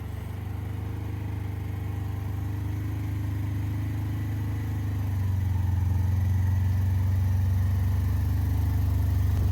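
A vehicle grinds slowly through slick, muddy ground on an elk hunting trip, its engine a steady low drone that swells louder about halfway through as it pushes on, with no talking.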